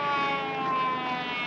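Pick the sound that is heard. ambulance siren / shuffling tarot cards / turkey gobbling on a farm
ambulance siren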